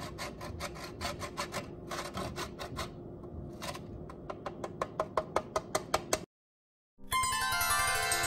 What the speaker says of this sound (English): And here, our salt-cured egg yolk. You want to grate over it.